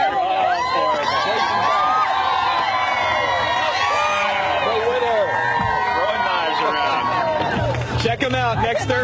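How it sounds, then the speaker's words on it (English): A crowd cheers and shouts at a live competition, with excited whoops and children's voices over busy babble. The din stays loud and continuous for several seconds before a brief dip near the end. "we got some cheering going on"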